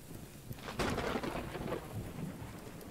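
Thunder rumbles through steady rain in the video game Choo-Choo Charles, a loud crack and roll rising over the constant patter of raindrops and fading back into the downpour.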